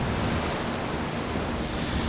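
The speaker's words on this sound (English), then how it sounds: "We watch so many good waves." Ocean surf breaking steadily at a Hawaiian surf spot, a continuous close roar of churning whitewater mixed with wind rumble on the microphone, no voices.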